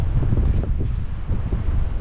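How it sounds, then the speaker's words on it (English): Strong gusty wind buffets the microphone on a high, bouncing suspended walkway bridge along the El Caminito del Rey cliff path in Spain, a steady low roar with surging gusts and no voices. "It's windy. I feel the wind and it's bouncy."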